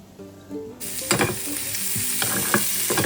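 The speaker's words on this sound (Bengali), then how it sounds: "এখন একটু পেঁয়াজ ভাজছি" Onions frying and being stirred in a pan while preparing aloo paratha stuffing, a steady close sizzle with repeated scraping, clattering stir strokes and no talking.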